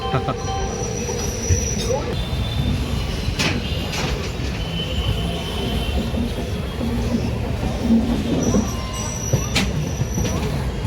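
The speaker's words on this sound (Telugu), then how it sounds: "చూడండి మెట్రో రైలు" A metro train rumbles past in Secunderabad with steady low roar and occasional wheel squeals, loud and close, continuous throughout.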